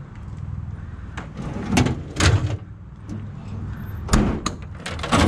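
Several toolbox drawers slide open and shut on metal runners, each glide ending in a short clunk, close and fairly loud, spaced a second or two apart.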